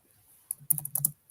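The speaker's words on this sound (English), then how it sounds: "Let me type it." Short bursts of keystrokes on a computer keyboard, a few quiet clicks then a quick cluster of sharp taps and a final stroke, close up and alone.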